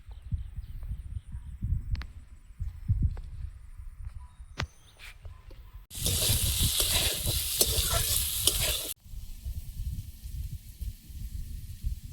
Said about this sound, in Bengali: চিংড়ি ভাজাটা হয়ে গেছে তুলে নেব